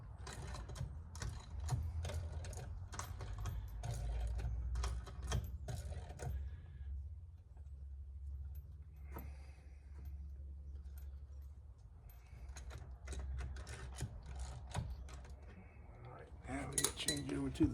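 Lug nuts are threaded by hand onto a drag racing wheel rim, giving quiet metallic clinks, small rattles and scraping taps that come in irregular clusters with short pauses between.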